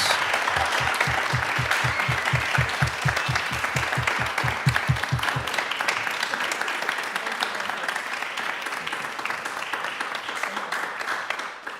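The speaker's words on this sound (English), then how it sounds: "I would love to just give one last really big round of applause to our panelists." Audience applause for the panelists at the close of an arts panel discussion, a full round of many hands clapping that runs steadily, with a rhythmic low thumping under the first half before it thins out.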